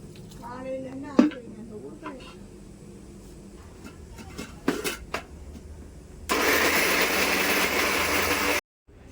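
After some talk and a few clinks, a grinder blending thiruvachi leaves with a little water starts up loudly. It whirs steadily for about two seconds, then cuts off abruptly.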